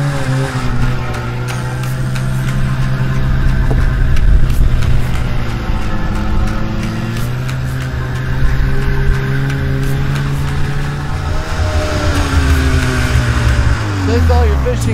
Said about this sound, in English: we're going for a ride to check out some ice fishing